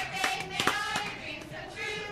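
Clapping from a video playing in the background of a podcast conversation, a few sharp hand claps near the start amid steady room noise, fairly faint and muffled.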